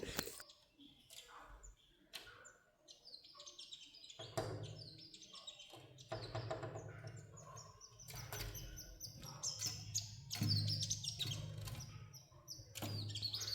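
Birds outside a house in the city chirp and tweet close by while tapping and knocking at a window pane in irregular bursts; the sounds are fairly faint over a quiet room.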